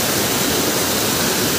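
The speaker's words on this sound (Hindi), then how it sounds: "ये देखो तो नीचे नीचे जाता है और ये डायरेक्ट पानी जो है डायरेक्ट नदी में मिलता है जाके" Natural mountain stream in Bageshwar, Uttarakhand, running downhill toward the Saryu river: a steady, broadband rushing of water, loud and close, continuous with no talk over it.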